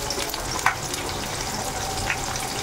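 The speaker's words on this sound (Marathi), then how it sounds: "आता त्यामध्ये आपण जो चिरून ठेवलेला कांदा होता तो कांदा आपल्याला यामध्ये टाकायचा आहे." Chopped onion and bell pepper fry in a hot pan, giving a steady close sizzle with a couple of brief stirring scrapes, no voices.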